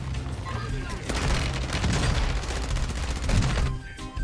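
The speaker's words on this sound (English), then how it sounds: "Dude, what is shooting me?" Gunfire in the video game Warzone 2, with sustained rapid bursts and booming shots crowding the mix for several seconds, loud and continuous before dropping off near the end, with a player's voice mixed in.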